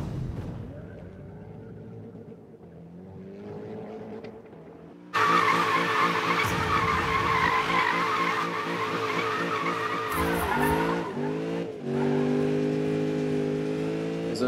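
Car drifting in Need for Speed (2015) on PS4, with a steady, loud tire squeal and revving engine running through most of the clip. The squeal grows sharply louder after a quieter opening, and harmonic engine tones rise and fall with it.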